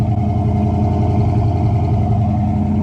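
A 1965 Ford Fairlane 500 with a 289 V8 and Holley Street Warrior carburetor idles steadily close by, a deep continuous rumble with a lumpy, even pulse and no talk over it.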